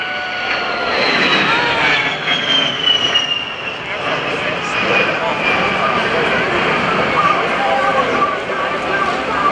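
A-10 Thunderbolt II jet rolling during an air show demonstration, a loud continuous engine roar with a whining pitch that slowly shifts as the aircraft passes, heard alongside an announcer's amplified voice.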